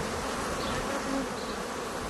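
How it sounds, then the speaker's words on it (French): Honeybees buzz in a dense, steady swarm, a continuous close drone with no voices over it. "La société des abeilles est sans doute la plus organisée qui soit."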